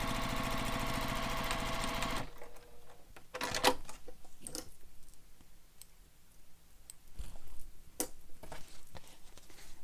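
A sewing machine stitches a fabric bag in a steady close whirring run that cuts off after about two seconds, followed by scattered clicks, taps and handling noises.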